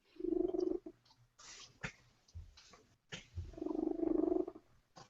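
A cat gives two drawn-out, purring calls about three seconds apart, close and moderately loud, with soft rustling and small knocks in between.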